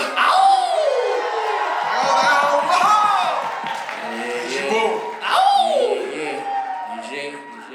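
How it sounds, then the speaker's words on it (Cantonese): A crowd at a hip-hop showcase cheers loudly, with rising whoops and shouts in two swells alongside scattered clapping, close and energetic. "俾掌聲佢啊！"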